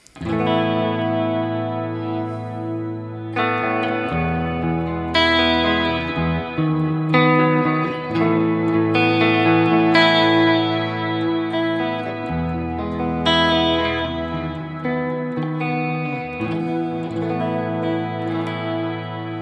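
Distorted electric guitar through effects pedals playing sustained chords with a heavy chorus-like shimmer and reverb, loud and steady, shifting chords every few seconds without any voice.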